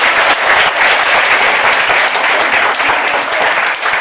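A comedy theater audience breaks into loud, sustained applause, many hands clapping densely and evenly throughout without pause.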